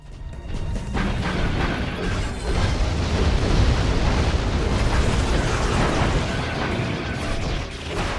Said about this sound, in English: Let's use some bombs against it, because those are pretty powerful.